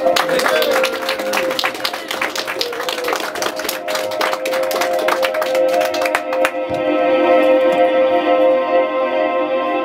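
An audience at a live music venue applauds after a band is introduced, dense clapping and cheering that holds steady for several seconds before music starts to come in.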